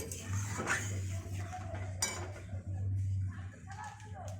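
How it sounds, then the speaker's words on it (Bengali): A lid clinks as it is lifted off a pot of simmering egg curry, two brief metallic knocks over a steady low hum of the stove, with no talking. "দেখুন এবার আমি তুলে দেখি ঢাকনাটা কতটা হয়েছে।"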